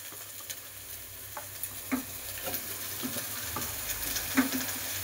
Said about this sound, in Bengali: এবার আলুর খোসাগুলো দিয়ে খানিকক্ষণ নেড়ে নিতে হবে।